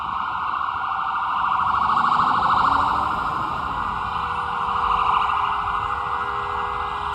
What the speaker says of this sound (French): Regardez, il y a les pompiers.